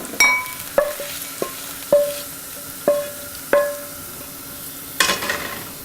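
Onions and garlic cook in a pan with a splash of white wine, stirred with a metal utensil: about eight sharp, ringing clanks spaced under a second apart over a low frying hiss.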